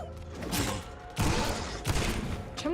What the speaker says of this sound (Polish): Czemu ty strzeliłeś gdzieś tam?